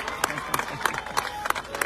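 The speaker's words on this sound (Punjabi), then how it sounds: "ਲੋਕੋ ਤਾੜੀ ਜਗਾਗ ਮਾਰਾ" Audience at a Punjabi political speech claps in short bursts at roughly third-of-a-second intervals, loud and close, with crowd murmur beneath.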